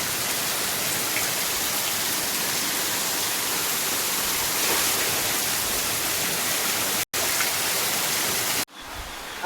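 Heavy rain pours in a dense, steady hiss during a village flood, loud and continuous with a brief dropout near the end.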